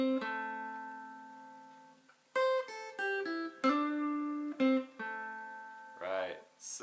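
A lead guitar plays a minor pentatonic lick in first position, opening with a long held note, then a quick run of picked notes and bends, clear and solo at moderate volume.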